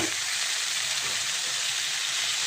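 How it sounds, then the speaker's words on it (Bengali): Spinach leaves go into a pan of lightly fried eggplant, producing a steady, even sizzle and hiss of frying that continues without a break. "বেগুনটা হালকা ভাজা হয়ে গেছে। এবার আমি এই শাকগুলো দিয়ে দেবো।"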